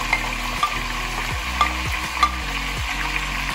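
Mutton korma with ginger garlic paste, salt, red chili powder, coriander powder and whole spices stirred and fried in a pan, a steady sizzle broken by several scraping stirs and spoon knocks, close and moderately loud, no voices.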